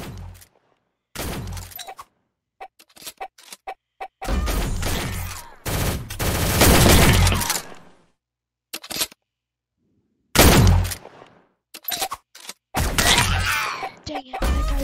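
Pistol fire in the online shooter game Shell Shockers comes in sharp bursts of cracking shots separated by brief silences. The shots sound loud and close, with clusters of rapid firing.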